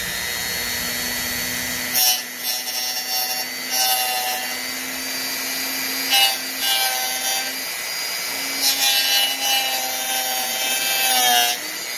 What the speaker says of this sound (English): the tool that we're going to use in this video is this Dremel with a mini grinding disc